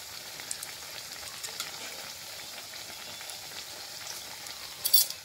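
Coffee pakoras fry in a small wok, a steady, soft crackling sizzle of hot oil with a brief metallic scrape near the end.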